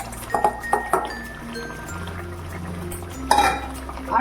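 Pabda fish go into boiling mustard gravy in a pan and get stirred, with sharp metallic clinks of a utensil against the pan in quick bursts over a low bubbling, frying background.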